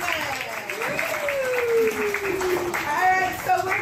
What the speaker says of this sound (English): Let's give them a round of applause and welcome them.